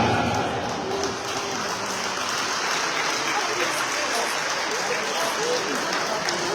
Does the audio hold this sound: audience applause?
yes